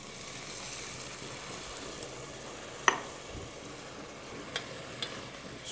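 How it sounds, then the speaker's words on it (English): Squash, onions, fresh thyme and white wine simmer with a soft, steady sizzle in a pot, broken by a single spoon clink and a few faint scrapes as the mixture is stirred. "So we're going to give that a stir."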